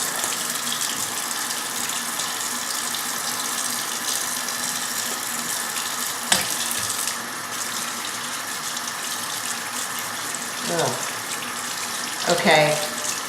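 Tap water runs steadily into a sink while makeup brushes are rinsed under it, a constant close splashing broken by a few brief clinks and squeaks.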